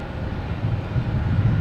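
Spirit Airlines jet in the all-white 'Skittles' livery taxiing at Logan Airport at night, a steady low engine rumble and whine at moderate distance, without speech.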